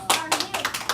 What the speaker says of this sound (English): 2 finger snaps and claps for Michael